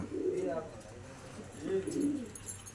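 Soft, low coos from purebred pigeons rise and fall in two short bursts over a steady background hum, with faint chatter in the distance.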